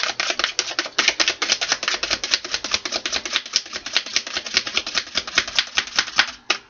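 A wizard tarot card deck being riffle-shuffled, heard as a loud, close, rapid run of crisp clicking card flicks lasting several seconds.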